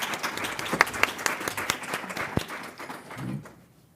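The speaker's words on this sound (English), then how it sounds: "can we give another round of applause to these two sisters, please?" Applause from a panel discussion audience, many hands clapping together at moderate volume, thinning out and fading away toward the end.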